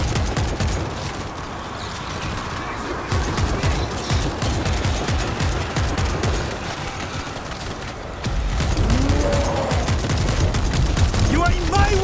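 Dense gunfire in World War Z, rapid overlapping shots and bursts running continuously and loudly throughout, close and heavy, with shouted voices mixed in underneath.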